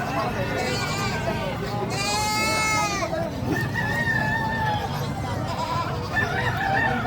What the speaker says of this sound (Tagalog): Ito po yung lumalaking manok, yung basilan.